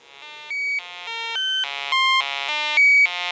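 A Winterbloom Speak to Me Eurorack module plays through a tiny speaker, giving a thin, tinny sequence of bright synthetic tones that step up and down in pitch with short gaps between them, played alone.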